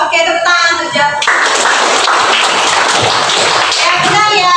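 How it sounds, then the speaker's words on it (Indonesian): A classroom bursts into brisk clapping for a student during an algebra lesson. Many hands sound together for a few seconds, with a voice speaking just before and again as the clapping fades. "Oke, tepuk tangan untuk Japres."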